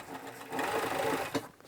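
An industrial sewing machine stitches a 6XL baseball jersey in a fast, even run, quiet and close, with a brief clack near the end.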